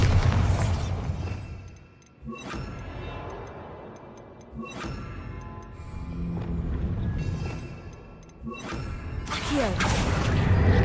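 A Bombarda blasting spell cast in Hogwarts Legacy, heard as several booming bursts with whooshes spread across the scene, set against a busy game soundscape.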